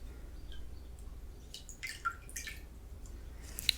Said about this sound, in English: I brought a few cotton pads as well. And I'm just going to soak these.